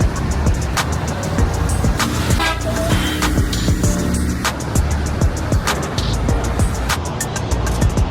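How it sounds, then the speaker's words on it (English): Heavy New York City street traffic rumbles on with car horns honking repeatedly, short toots and longer blasts scattered throughout at varying distances. "there is way too much traffic here"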